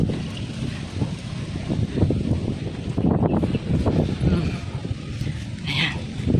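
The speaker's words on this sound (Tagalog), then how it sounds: "Sobrang lakas ng hangin." Strong gusting wind buffets the microphone outdoors on a walk, a broad, continuous rumble and roar that swells and eases throughout, with a person's voice heard faintly beneath it.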